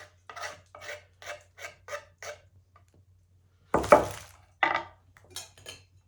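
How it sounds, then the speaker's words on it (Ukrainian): Stirring a mushroom salad with green onion and dill in a bowl, about seven rhythmic scraping strokes of a spoon, a short pause, then a louder clatter and several more scrapes, close and with no voices. "Це все діло перемішуємо."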